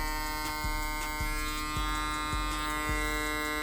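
A powerful, high-speed barber hair clipper motor runs with a steady, bright electric buzz rich in overtones, marked by faint regular ticks about every half second, with no talking.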